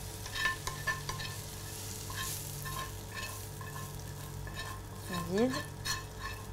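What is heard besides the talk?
stirring potato, bacon and onion mixture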